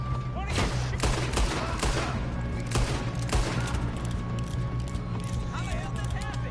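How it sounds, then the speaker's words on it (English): Gunfire in Red Dead Redemption 2, rapid repeated shots cracking over a steady low rumble and hoofbeats, with voices shouting over the shooting. "What are you shooting?"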